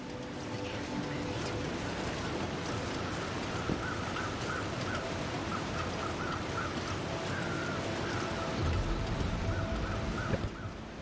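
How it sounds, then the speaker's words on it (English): Crows caw repeatedly in a rhythmic series within the video game The Long Dark, set against a steady, dense wind-like background that persists throughout. "You can see some crows circling at eye level over something at the bottom of the rope."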